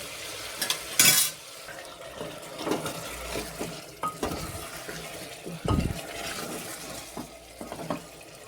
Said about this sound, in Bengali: আলুটা দিয়ে আরও কিছুক্ষণ কষিয়ে নিয়ে